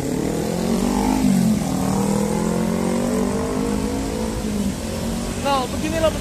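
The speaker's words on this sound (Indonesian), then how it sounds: "suara motor dan kendaraan lainnya berisik sekali teman-teman" Busy road traffic with cars and motorcycles rumbling and revving close by at the Monas bus stop in Jakarta, a steady engine roar with a voice talking over it.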